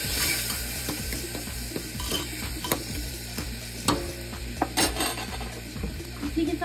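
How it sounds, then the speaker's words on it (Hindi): Spoon stirring two spoonfuls of salt into semolina idli batter in a bowl, giving a continuous wet scraping with frequent sharp clinks of metal against the dish, close and steady, with no talking. "नमक डाल के अच्छे से चला लेंगे।"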